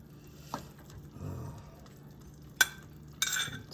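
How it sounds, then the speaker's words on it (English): A ladle scooping turnips and greens from a pot into a bowl, with soft wet stirring and sloshing, a few sharp metallic clinks against the dish, fairly quiet and close. "I'm gonna just ladle a little bit of each into the bowl"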